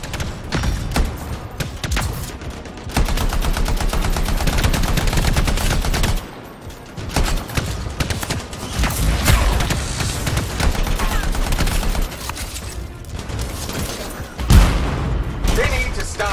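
Rapid gunfire bursts and booms from the video game Anthem, dense and loud throughout, with a brief lull around the middle and a sharp heavy impact near the end.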